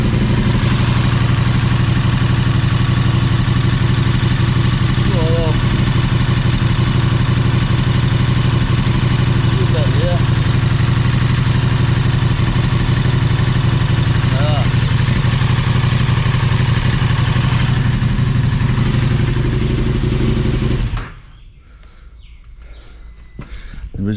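KTM 1290 Super Adventure S motorcycle engine idling after an oil change, a steady close, loud low rumble running for about twenty seconds before cutting off, with faint birdsong in the background.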